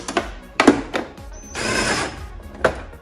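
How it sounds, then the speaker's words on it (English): A power tool snugging bolts on a John Deere D105 hydrostatic lawn mower, giving a few short loud bursts and knocks with one longer whirring run in between, close by. "I can tighten these 4 bolts back in. I'm just gonna snug them up a little bit."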